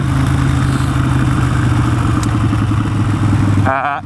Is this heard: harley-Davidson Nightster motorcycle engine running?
yes